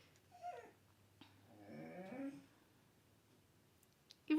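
A dog close behind the camera whines in a rising, wavering cry lasting about a second, with softer whimpers around it, while a person talks nearby.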